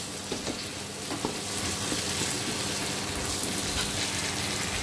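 Tomato paste and spices sautéing in a pan for Bengali-style chicken curry, stirred as they cook: a continuous bubbling sizzle with light scraping and spoon knocks, close and unbroken, with no voices.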